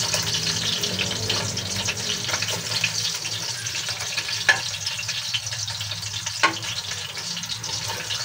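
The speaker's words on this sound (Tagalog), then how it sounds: "At magsisimula na tayong mag-gisa ng ating mga ingredients." Ingredients sauté in oil left from frying boneless bangus, a continuous close sizzle with faint scraping stirs and a couple of brief clinks, no talking.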